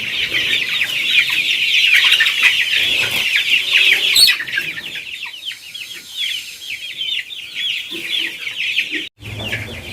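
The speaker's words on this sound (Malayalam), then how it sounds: "കോഴികൾ ഓടിച്ചാടി പറന്നൊക്കെ നടക്കാം" A dense flock of chickens on a poultry farm clucks and calls continuously, loud and close, with the birds busy and moving about and a brief pause near the end.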